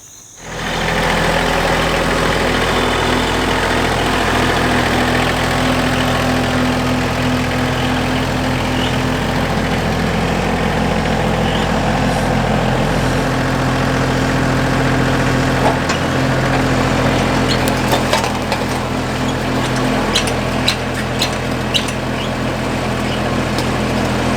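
A tractor engine powering a rear auger to drill holes in the ground runs steadily and loudly at close range throughout, a constant low rumble and vibration with no talking.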